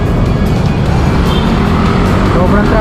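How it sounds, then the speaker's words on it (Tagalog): Heavy road traffic beside a market on Ortigas Extension in Antipolo, a steady loud rumble of car engines close by with passing vehicles, and voices talking over the din. "Sobrang traffic."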